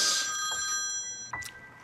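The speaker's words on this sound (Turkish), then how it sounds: "Sabahtan beri telefonu çalıyor." A telephone rings indoors in a short, steady electronic tone with bright harmonics, holding for over a second before cutting off, with a faint knock or rustle following.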